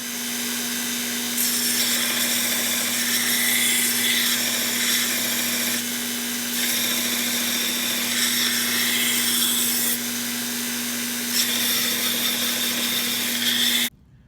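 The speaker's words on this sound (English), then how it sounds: "I'm going to shape, I think, some of this radius on my belt sander" Belt sander shaping a radius on a wooden stitching pony part, a steady motor hum with a continuous belt whir, overlaid by surges of rough abrasive grinding as the workpiece is pressed on and eased off several times, stopping abruptly at the end.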